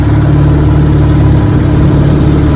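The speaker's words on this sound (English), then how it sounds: "I got this motor here, test run about 15 minutes, and it's a good motor." A 1961 18 HP Evinrude outboard motor runs on a test with a steady, loud, close idle, holding an even low throb for the whole stretch with no voices.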